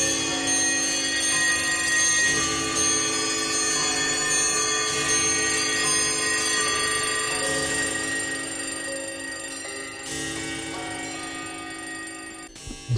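Clock alarm bells ring together in a Pink Floyd recording, a loud, sustained metallic jangle that fills the whole stretch and eases slightly near the end.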